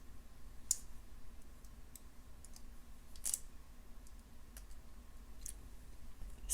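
Thin wire being wrapped around a loop with skinny pliers while making a carnelian and amethyst bead necklace: faint, sparse metallic clicks and ticks, scattered irregularly over a quiet background.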